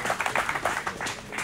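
Scattered audience clapping at a People Power political gathering, a run of quick, uneven claps at close range that thins out toward the end.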